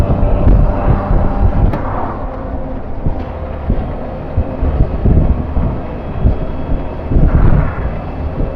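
Wind roars and buffets steadily around an open old Land Rover Series IIA driving at about 40 mph, with low engine and road rumble underneath and gusty surges throughout.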